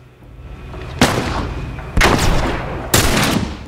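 Three heavy gunshots ring out about a second apart in the video game The Last of Us Remastered, each a loud close blast with a lingering echoing tail, no talk over them.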